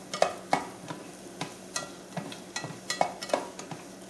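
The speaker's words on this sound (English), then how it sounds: "Then you put the shallots in the pan." Shallots frying in a little oil in a pan while being stirred, with a soft sizzle under repeated scraping and clinking strokes of a utensil at an irregular rhythm, close and fairly quiet with no talk.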